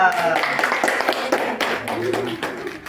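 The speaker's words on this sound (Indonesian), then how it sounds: "Tepuk tangan untuk Nisa" Scattered hand claps patter along beneath people talking, a loose, uneven round of applause from a small group at a microteaching session.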